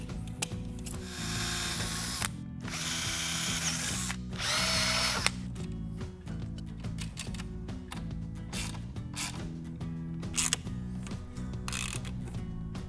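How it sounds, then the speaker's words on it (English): Power drill driving hinges into a homemade vacuum table built from hardware store parts, several loud whirring bursts of a few seconds each with ratcheting mechanical clatter and short pauses between, close up with no talking. "And then I'll just do some drilling"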